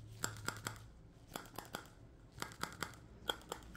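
A paper hole puncher works through paper in several bursts, each a cluster of crisp crunching clicks, heard close up in a quiet room with no talking.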